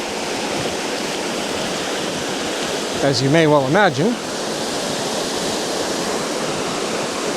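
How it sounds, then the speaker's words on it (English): Waterfall in a creek, a steady broadband rushing of falling water that fills the whole stretch, with someone briefly speaking over it midway. "There's the waterfall."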